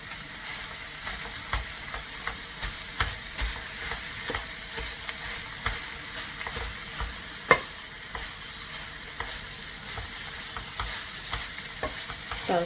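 Shredded cabbage for a vegan stir fry sizzles steadily in a pan while a utensil turns it, with a continuous frying hiss under repeated scraping strokes and one sharper knock.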